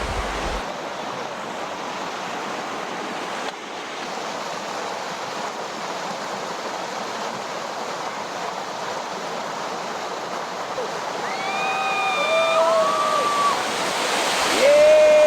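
Steady roar of the Ceurace Angin waterfall in forest at Tangse, Pidie, Indonesia, broadband and constant, with a few bird chirps rising near the end.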